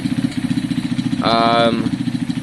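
A smoky, metallic-sounding KSR motorcycle engine idles close by with a rough, pulsing beat, and a brief tonal whine rises in the middle of the clip.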